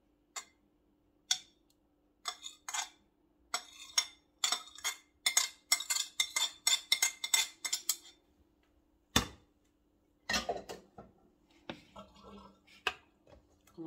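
Utensil clicking and scraping against a bowl while chopped egg is stirred, a quick irregular run of light ticks and taps with short pauses, close and fairly quiet.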